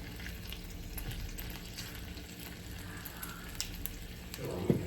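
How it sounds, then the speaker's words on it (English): Steady crackling sizzle of bacon-wrapped asparagus frying in a hot pan, continuous and fairly quiet, with a faint clink near the end. "Now we're frying."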